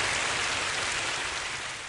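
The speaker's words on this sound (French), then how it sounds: "faites de beaux applaudissements" Dense, steady applause from an audience at a Christian faith show, clapping for Jesus, filling the space like rain and tapering slightly at the end.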